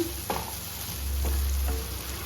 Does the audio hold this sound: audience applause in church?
no